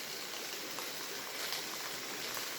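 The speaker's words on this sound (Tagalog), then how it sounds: "Ayan, dito yung sapa." Steady rushing of a flowing mountain stream on Mount Banahaw, a continuous broadband wash of water with no pauses, fairly close and even in level.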